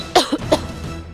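A person with a sore, irritated throat from yellow dust coughs in a quick cluster of two or three sharp, close bursts, then falls quiet.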